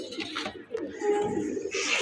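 A red checker male racing pigeon from 2019 gives a short, close, throaty coo, with a brief low murmur of other sound around it.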